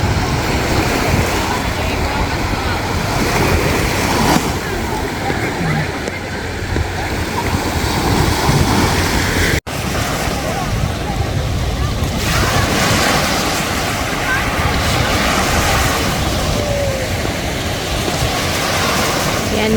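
Sea waves wash onto a summer beach in a continuous loud roar, with heavy wind buffeting the microphone throughout.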